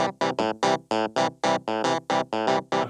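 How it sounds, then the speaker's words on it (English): A funky clavinet patch from a Roland Sound Canvas SC55 plays a choppy, percussive riff of short staccato chords in a steady rhythm, bright and prominent, with no voices. "I've got the clavinet coming out of it"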